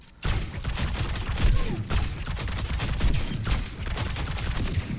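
Rapid gunfire from Freja in a video game, bursts fired in a steady four-shot rhythm, loud and dense across the whole stretch with no talking over it.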